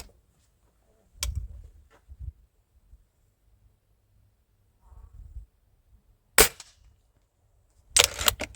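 An old pellet rifle fired at a wooden plank, sharp isolated cracks spaced several seconds apart with faint handling noise between shots.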